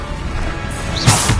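A Bombarda spell blast in Hogwarts Legacy gameplay erupts as a single sharp, loud crashing impact with a brief whoosh, following a low steady background rumble.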